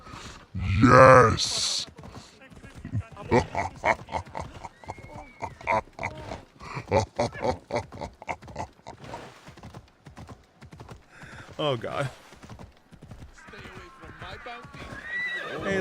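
A horse in Assassin's Creed Odyssey gives a loud, close neigh, followed by clip-clopping hooves and game sounds while a person talks over much of it.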